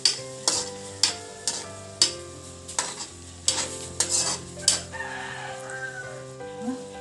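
Sea urchin is sautéed in a pan, a utensil scraping and clacking in a steady series of strokes about every half second over a soft sizzle, with a rooster crowing faintly in the background near the end.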